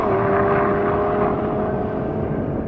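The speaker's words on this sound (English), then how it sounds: "This engine is epic." A BMW M2 CS sports car running the tuned M4 Competition engine in a drag race, a loud continuous engine drone with a steady tone that drifts slightly lower, close and unbroken for under three seconds.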